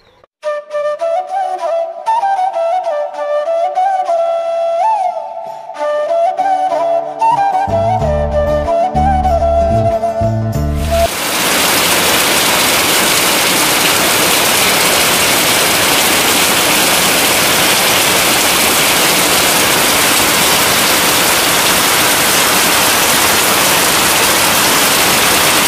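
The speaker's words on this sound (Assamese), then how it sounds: "ফাইনেলি বৰষুণ ষ্টাৰ্ট হৈ গ'ল" Rain begins falling after a stretch of music, turning into a loud, steady, dense roar of rainfall that continues without a break to the end.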